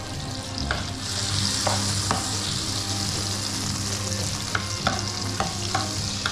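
Butter and a little cooking oil sizzle steadily in a pan outdoors at night, a continuous frying hiss with a few sharp scraping stirs and clicks scattered throughout.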